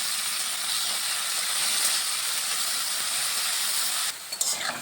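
Salted potato pieces fry in hot oil in a pan with a steady, close sizzle and hiss, and a few clinks of stirring come near the end.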